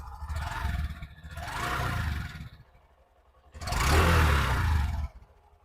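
A Honda SP 125 motorcycle engine revs hard twice, a long rising roar, a brief drop to idle, then a louder second burst before settling back to a low idle.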